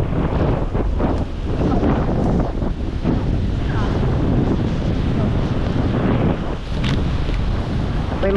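A boat engine runs steadily at sea after a storm, a low continuous drone buried under heavy wind buffeting and splashing waves, with faint voices in the background.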